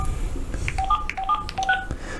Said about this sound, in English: that's called a dial tone